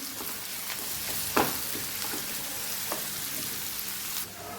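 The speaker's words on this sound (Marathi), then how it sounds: "आता यामध्ये जे आपण कांदे 2 बारीक चिरून घेतले होते ते कांदे आपण यामध्ये घालत आहोत" Finely chopped onions fry in hot oil for restaurant-style dahi bhindi, giving a steady close sizzle broken by occasional sharp stirring clicks and scrapes.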